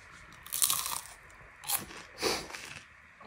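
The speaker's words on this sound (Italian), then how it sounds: "adesso bisogna sentire anche la loro croccantezza, Diana." Crisp crunches from biting into homemade flourless breadsticks, three distinct close bites with short crackling snaps, the last followed by faint chewing.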